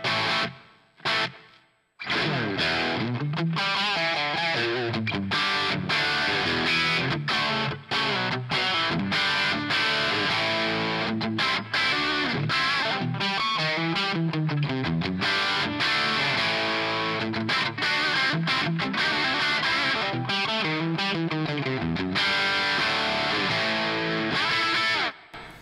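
Electric guitar played through a NUX MG30 crunch preset, dry with a little reverb, in continuous distorted chords and riffs, loud and close throughout with no talk.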